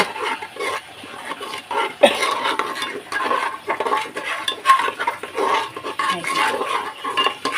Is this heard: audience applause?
no